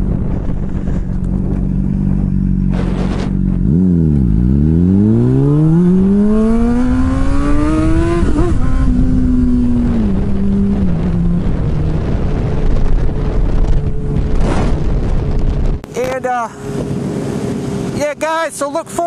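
Motorcycle on the road, heard through an action camera mounted on the bike, with a loud engine revving up and down through the gears over heavy wind buffeting; close and continuous.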